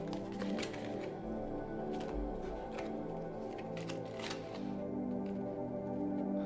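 Tarot cards are given a quick shuffle, producing rapid soft clicking and riffling under a steady background of music and hum.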